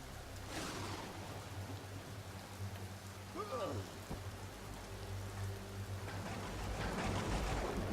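Acid rain falls steadily in the Empyrion video game, a constant broadband patter over low engine-like hums, with faint game tones and soft speech underneath.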